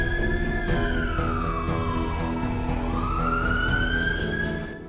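An ambulance siren wails from a short distance, its tone sweeping slowly down and then back up in one long, steady cycle over a low traffic rumble.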